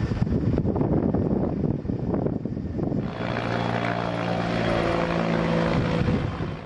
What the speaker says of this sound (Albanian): ajo e helikopterit nga ajri, duket se nuk po japin rezultate